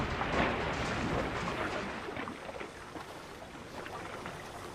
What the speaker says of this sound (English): splashed into the canal